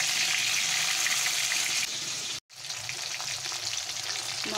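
Pieces of bhola fish frying in hot oil in a pan, a loud continuous sizzle and crackle with a brief silent break midway before the frying hiss resumes slightly softer.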